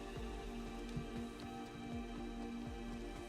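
Steady rain hisses evenly in Minecraft, a constant dense wash of falling drops near a farm and town hall, with faint periodic low pulses underneath and no voices.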